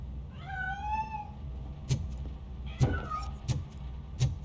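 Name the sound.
cat meowing in the RoboCop: Rogue City video game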